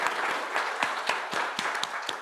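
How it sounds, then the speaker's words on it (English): An audience at a conference parallel session on climate, energy and urbanization applauds its speakers; a moderate crowd produces a steady patter of claps with a few crisp, louder hand strikes standing out. "I think all speakers deserve a very loud applause for being and staying awake with us."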